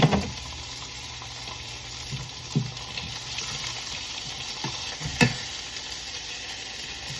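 Onion sizzling in a pan for beef stew, a soft steady hiss with a few clinks and stirring knocks scattered through it, and no voices.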